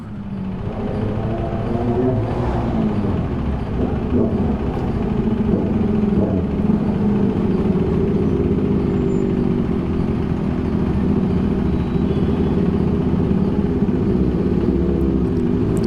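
Several motorcycles and cars idle and rumble together at a group meetup, a continuous deep engine drone with a slight rise in revs partway through, steady and fairly loud with no clear talk on top.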